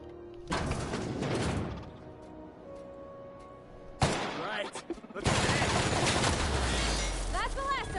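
Bursts of automatic gunfire crackle in The Outer Worlds video game: a long volley, then a sharp report and a second sustained burst, with clattering impacts between them. Speech runs beneath the shooting.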